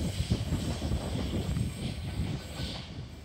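A Sydney train passes through Wolli Creek station without stopping, a steady loud rumble and hiss of wheels and rail noise that holds close throughout before easing slightly at the end.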